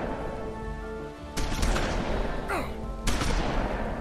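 Shotgun blasts in the video game The Wolf Among Us, several sharp loud bursts spaced a second or so apart over a continuous game background.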